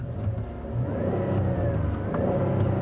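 A 2019 Buick Enclave Avenir with GM's 3.6-litre V6 runs with a low, steady engine hum and a mild rising rev, continuous and fairly close, with no talking.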